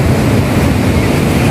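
Ocean surf at a beach in Baler with lifeguard towers, a loud continuous roar of crashing waves and wind noise filling the whole moment.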